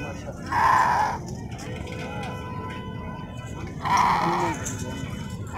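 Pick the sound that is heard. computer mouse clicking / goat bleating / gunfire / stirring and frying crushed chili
goat bleating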